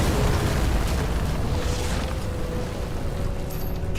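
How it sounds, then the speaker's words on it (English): Explosion of a burning, flooded transformer in the video game Nobody Wants to Die, heard as a dense, sustained roaring rumble that fills the whole stretch without pause, with no speech over it. "That's what caused the explosion."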